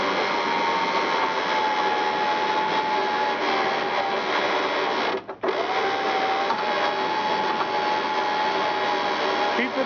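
A generator and a running vehicle engine drone together in a loud, steady mechanical hum with a faint whine, broken by a brief dip about halfway through before carrying on unchanged.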